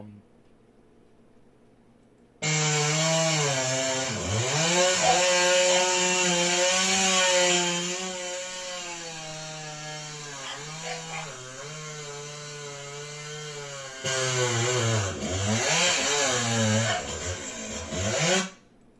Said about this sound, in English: It's just a short little video of Mark sawing with Rogi.